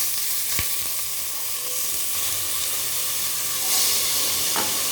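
Onion and tomato sizzle steadily in hot oil with popping mustard seeds for a banana stem curry, a continuous close frying hiss with a few sharp crackles and a brief scrape of stirring.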